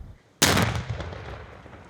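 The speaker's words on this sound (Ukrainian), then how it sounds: "На Ізюмщині час від часу лунають вибухи." A single loud, sharp blast from controlled demolition of found munitions by emergency services in the Izium area of Ukraine, hitting abruptly and then rumbling and fading over about a second and a half, with no talking.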